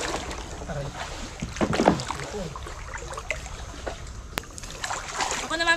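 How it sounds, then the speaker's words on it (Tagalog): Water sloshes and splashes as a small boat is pulled by hand through shallow water while crabbing in the rural Philippines, with scraping and rippling sounds and some faint voices nearby. "Ako naman maghihila ng bangka ngayon."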